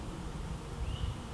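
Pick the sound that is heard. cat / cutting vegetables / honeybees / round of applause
honeybees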